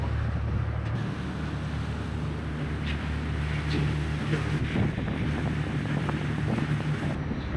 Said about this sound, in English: here we are on the ferry heading to Bruny Island